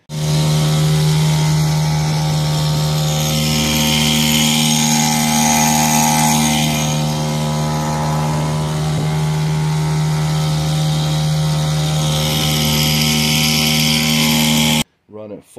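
A Mercury 39 outboard engine runs flat out at full power, a loud, steady close drone that holds continuously before cutting off abruptly near the end.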